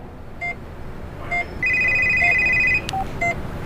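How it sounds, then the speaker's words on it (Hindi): A phone call sound effect in a Hindi story episode: a few short electronic beeps spaced about a second apart, with one longer held tone in the middle, clear over a low background hiss, with no talking. "12 बजे मुझे सुहानी का कॉल आया।"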